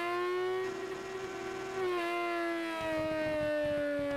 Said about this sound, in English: Well, this bike sounds like redlining.